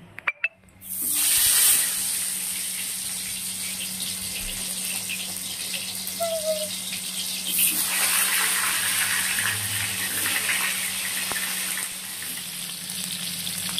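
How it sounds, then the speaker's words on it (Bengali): Pointed gourd (potol) pieces frying in hot oil in a wok, a loud steady sizzle that bursts in suddenly and holds throughout with no talk. "এবারে তেলটা গরম হয়ে গেলে পটলগুলো দিয়ে পটলগুলোকে একটু লাল লাল করে ভেজে নেব"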